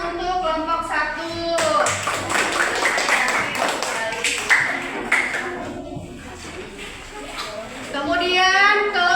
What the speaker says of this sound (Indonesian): Sekarang tepuk tangan untuk kelompok 1.